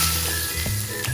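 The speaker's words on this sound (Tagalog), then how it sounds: "Ipa-fry mo siya, medium fire." Chicken sizzles steadily in a pan over medium heat while being fried, a continuous close hiss with faint low hum beneath and no talk.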